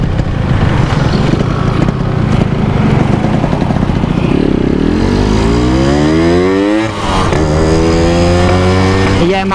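A Yamaha RX Special 115 cc two-stroke motorcycle on a test ride revs loudly up close, its engine note climbing steadily in pitch with a brief dip before rising again, over constant rough engine noise.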